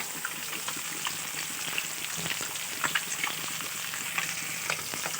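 Mango pieces frying in a generous amount of hot mustard oil, a steady close sizzle with scattered sharp pops and crackles throughout.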